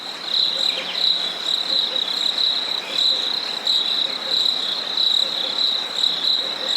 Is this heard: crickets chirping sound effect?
yes